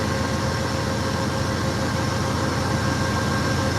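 A train passing at Ottumwa station in Iowa gives a steady, loud rumble of rolling wheels and engine noise close by, with no voices.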